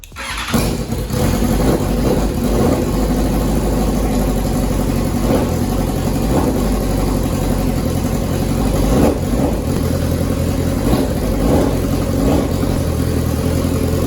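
A rebuilt, previously wrecked 2021 BMW S1000RR M motorcycle fires up with a sharp start, then its engine idles loud and close with a few brief revs rising through the running.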